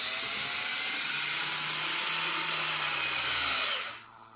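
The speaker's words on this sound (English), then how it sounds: "I'm not sure what size the motor is, but it's a brushed motor." Brushed electric motor of an RC vehicle whining at a steady high pitch for about four seconds, close and loud, then cutting off abruptly into quiet.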